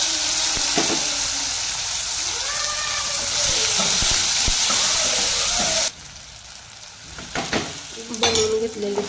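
Cumin, mustard seeds, onion and tomato frying in oil for a South Indian breakfast dish, a steady close sizzle with stirring scrapes that drops sharply partway through, leaving quieter clinks and bursts.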